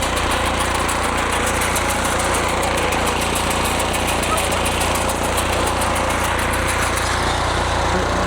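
A small petrol garden tiller runs steadily while its tines churn soil clumps, making a loud, even engine drone with a rough rattling texture close by throughout, with no talk over it.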